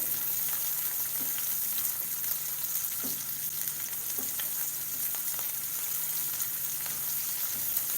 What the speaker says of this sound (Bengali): চিংড়ি মাছটা গাছ তেলের উপরে কিছু সময় ভেজে নিতে হবে